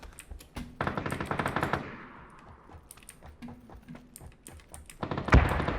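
Rapid automatic gunfire from the battle-royale game PUBG, played as a duo squad: two dense bursts of rattling shots, one early and one late, with scattered single cracks between them and a sharp loud shot near the end.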